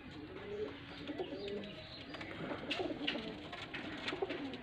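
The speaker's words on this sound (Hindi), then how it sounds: "एक कस वाला कबूतर है" Pigeons cooing at a Faisalabad pigeon breeder's loft, soft repeated throaty coos at close range over a faint background hum and occasional chirps.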